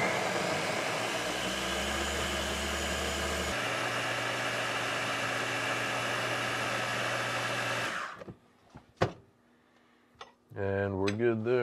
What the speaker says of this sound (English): All you really need is a good food processor.